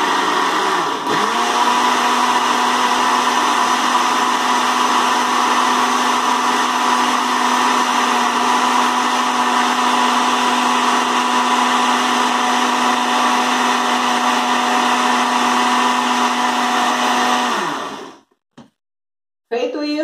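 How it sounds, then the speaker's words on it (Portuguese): A kitchen blender mixes chocolate cake batter with hot water in a steady, loud motor whir that runs unbroken for about seventeen seconds, then winds down and stops. "Aqui é só ligar o liquidificador e bater."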